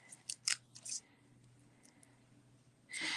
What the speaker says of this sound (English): Now I've cut my dimensionals in half